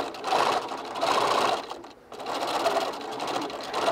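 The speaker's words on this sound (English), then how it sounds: "I'm going to go ahead and just back stitch and make sure that we're good to go" A sewing machine runs in two steady bursts while back stitching a dog bone shaped neck pillow, with a brief pause between them, close and fairly loud and without any talk.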